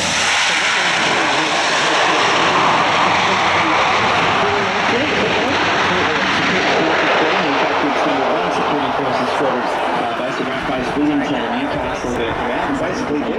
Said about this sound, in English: you're going to see a fairly short landing here, and these aircraft can land on unprepared strips